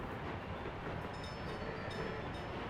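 A train rolls along in the city-building game Workers & Resources, giving off a steady, unbroken rumble of moving rail cars with faint high tones above it and no voices.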